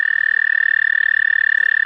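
An American toad in Ontario gives a sustained, steady high musical trill, loud and close, running unbroken and alone without any voices.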